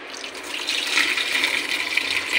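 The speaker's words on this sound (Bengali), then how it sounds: "আমি এখন মাছটি ভালো করে ধুয়ে নেব।" Rohu fish being rinsed clean under running water in a kitchen, a steady close splashing stream of tap water running without pause and no voices.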